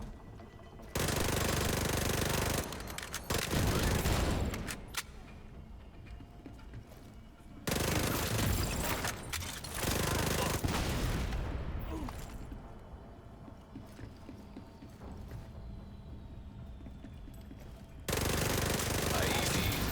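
Automatic gunfire in the video game The Division comes in several long, loud, rattling bursts separated by quieter gaps, with occasional talk in between.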